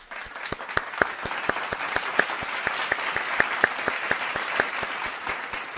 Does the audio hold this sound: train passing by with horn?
no